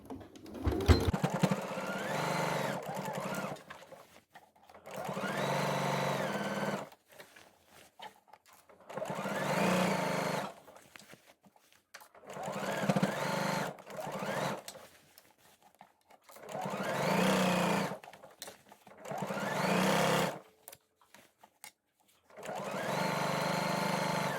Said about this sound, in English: So then you just use a normal straight stitch and stitch all the way around the hem.